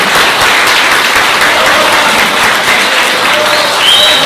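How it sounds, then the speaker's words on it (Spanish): Steady, loud, sustained applause from an audience at a Journalist's Day event in Villa Ángela, dense clapping throughout with no break, a faint voice briefly audible near the end. "Fuerte aplauso, Analía."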